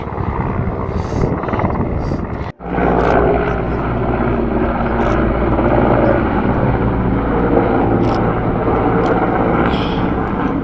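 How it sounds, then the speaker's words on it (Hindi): A helicopter flies over the high mountain Adi Kailash area near Parvati Sarovar, a loud, steady rotor and engine drone that fills the whole clip with one brief dropout near the start. "तो आदि कैलाश एरिया में हेलीकॉप्टर उड़ता हुआ"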